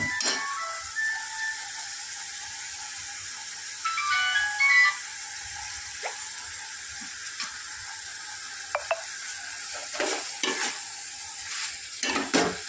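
Country chicken frying in oil with garlic paste, a steady sizzle with soft stirring and scraping against the pan throughout, and a few sharper clinks and a brief ringing tone partway through.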